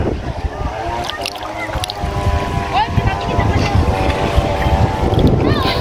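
Steady wind rushing and buffeting across the whole stretch, with a person talking over it and faint water or boat noise underneath.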